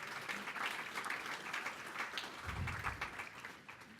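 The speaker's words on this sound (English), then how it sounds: "While you're in an applauding mood" An audience claps at a university service awards ceremony, a dense patter of applause that stays fairly even and moderately distant throughout, with a brief low thump near the end.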